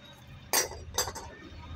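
Metal motorbike clutch plates clink together as they are handled, two or three bright, close, sharp contacts ringing briefly with no voices.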